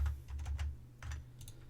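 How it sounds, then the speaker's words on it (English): Quiet typing on a computer keyboard, a few light key clicks in short bursts with a pause between them, over a low steady hum. "And then we'll just type in flux."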